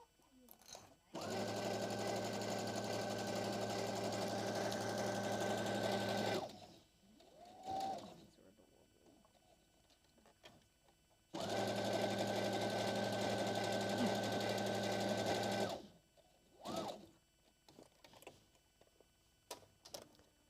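A sewing machine stitches straight lines in fabric, running in two long steady bursts of about five seconds each with a quiet pause between, close and clear, with people talking briefly in the gaps.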